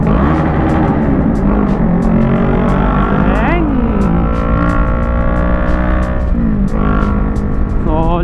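A Kawasaki Z650 motorcycle engine revs hard and loud inside a tunnel, pitch rising and falling in several pulls, with a rider speaking over it.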